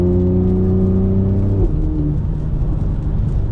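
A BMW X3 M with a $4000 aftermarket exhaust revs loudly, its harmonic engine drone holding steady before dropping off sharply into a rumbling, crackling burble, heard close and without any talk.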